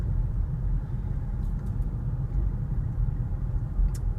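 Inside the cabin of a 2013 Lexus RX350 with a V6, cruising slowly along a beach road at about 20 mph: a steady low engine and road rumble, quiet and even, with a faint tick near the end.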